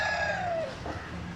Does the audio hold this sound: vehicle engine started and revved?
no